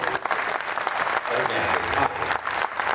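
A crowd applauds loudly at a kavi sammelan, a Hindi poetry gathering in Gondia, the clapping dense and steady for a few seconds with some voices mixed in.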